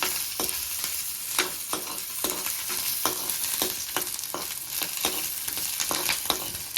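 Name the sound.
green chillies frying in pan for mango chutney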